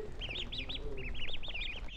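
A crowd of about a hundred small ducks calls close by. Rapid, repeated high peeping chirps come in quick runs for about two seconds, with no voices.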